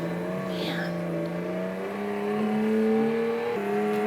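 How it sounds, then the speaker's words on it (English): A virtual car in a 2012 room-based augmented reality driving game, steered with an Xbox wheel, gives off a synthetic engine hum whose pitch slowly climbs and shifts as it accelerates, moderately loud and alone. "a player can drive a virtual car around the room"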